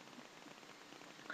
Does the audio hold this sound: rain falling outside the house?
yes